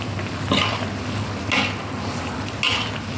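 Pork sausage with red curry paste being stirred in a pan, a steady sizzle broken by three brief scraping stir strokes spaced about a second apart, close and moderately loud.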